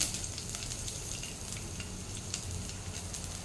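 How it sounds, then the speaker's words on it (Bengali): Garlic frying in hot oil for Ema Datshi, the Bhutanese chili and cheese dish, giving a steady close sizzle with faint crackles throughout and no talking. "প্রথমে আমি রসুনটা দিয়ে দিচ্ছি"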